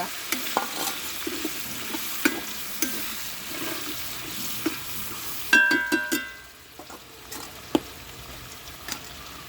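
Onions fry in a pan under repeated spoon stirring, a soft continuous sizzle broken by scraping strokes and a brief louder clatter midway.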